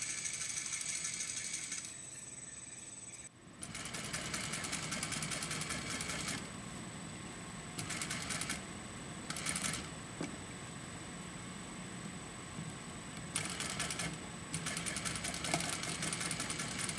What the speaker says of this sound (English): just sew the side seam, and sew the hemlines